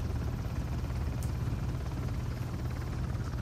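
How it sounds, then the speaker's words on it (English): In the video game Uncharted: The Lost Legacy, a helicopter produces a steady low rotor thrum with a broad whooshing hiss layered over it, continuous and unchanging at moderate volume. "We're meant to attach ourselves onto the helicopter."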